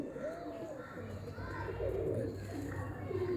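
Soft, low cooing from pigeons kept at a home loft, several repeated rolling coos close by, with voices talking over them.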